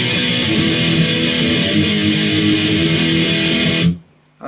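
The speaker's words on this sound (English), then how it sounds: "It's kind of heavy and kind of fast, lots of power chords." A heavy, fast electric guitar fill built on power chords, distorted and dense, played loud and continuously for about four seconds before cutting off abruptly into near silence.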